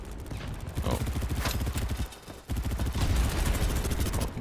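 Rapid automatic gunfire from a player's weapon in the Battlebit shooter game, a loud, fast rattle of close shots in sustained bursts with a brief pause, and a voice talking over it.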